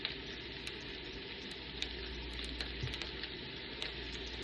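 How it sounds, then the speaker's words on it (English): Onions sizzle in a pan over high heat at an outdoor cook-off, a soft, steady crackling hiss that stays fairly faint and even throughout. "turn the heat up and let them onions do what they do"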